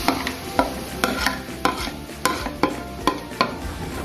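Ginger garlic paste frying with browned onions for a soya chunk curry, a soft sizzle broken by about nine sharp scraping strokes of a spoon against the pan in a loose, steady rhythm.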